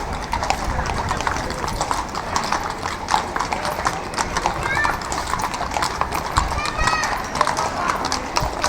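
Horse hooves clip-clop on pavement at the Tres Tombs parade in Vilanova i la Geltrú, a dense run of sharp hoof strikes close by under constant crowd chatter and people talking nearby.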